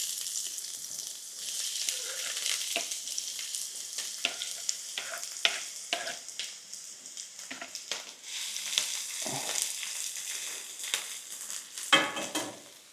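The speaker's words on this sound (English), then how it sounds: "we're just going to caramelize our onion down a little bit here" Chopped onion fries in avocado oil or tallow in a pan on a woodstove, a steady close sizzle broken by frequent clicks and scrapes of stirring.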